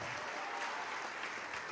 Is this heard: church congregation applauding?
yes